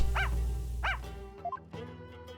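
A dog named Shadow barks in Phoenix Wright: Ace Attorney, two sharp close barks followed by a couple of short higher yips, over a steady low game background hum.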